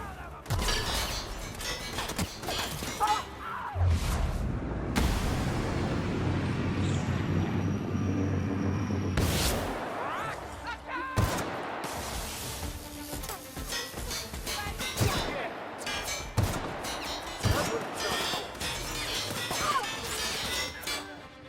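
Gunfire in The Outer Worlds: Peril on Gorgon DLC, with loud crashing volleys and bursts of shots over a dense game soundscape, several sharp impacts following one another through the clip.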